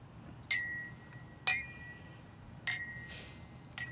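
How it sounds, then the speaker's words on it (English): Drinking glasses clink together in a toast, four light, bright ringing taps spaced about a second apart, each with a short glassy ring, heard close and alone over quiet room hush. "Clink. What a cheerful noise."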